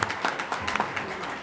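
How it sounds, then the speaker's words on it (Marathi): Hand clapping from the audience at an ayurvedic college alumni meet, a brief burst of uneven claps that tapers off quickly with a slight murmur of people present. "एकदा जोरदार टाळ्या आपणा सर्वांसाठी"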